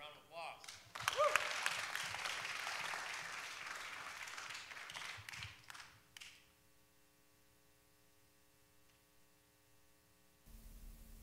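Audience applause and cheering for a vocalist at a family music night, building quickly and holding for several seconds before dying away, leaving a low electrical hum and a quiet room.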